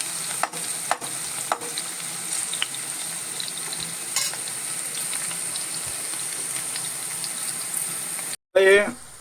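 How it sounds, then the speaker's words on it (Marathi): Vegetables frying in oil in a pan, the same oil used earlier for okra, giving a continuous close crackling sizzle with a few sharp ticks, then a brief louder burst right at the end. "आपण त्याच तेलामध्ये भेंडी ज्याच्यामध्ये आपण फ्राय केली होती त्याच तेलामध्ये हे देखील आपण फ्राय करणार आहोत."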